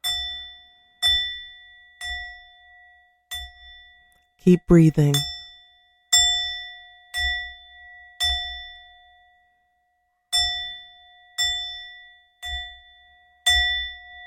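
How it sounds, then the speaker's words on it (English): A bell chimes at a slow, steady pace, each clear ring fading before the next, with a brief soft spoken phrase in the middle. "When the bells stop"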